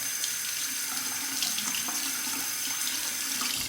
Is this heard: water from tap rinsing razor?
yes